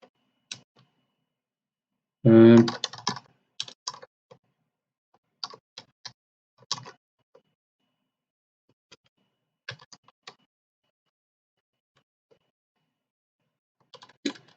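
Computer keys are tapped in sparse, irregular clicks with a louder burst near the start, followed by scattered light taps and long quiet gaps while commands are entered during a penetration-testing walkthrough.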